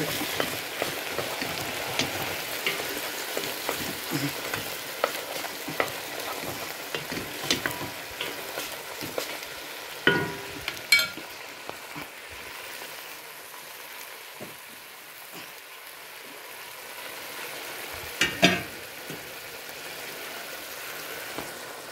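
Chicken fricassee sizzles in a hot pan while a spatula or spoon stirs and scrapes stuck bits from the bottom, with a few sharper scraping knocks over the constant frying hiss.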